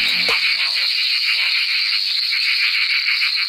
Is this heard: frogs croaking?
yes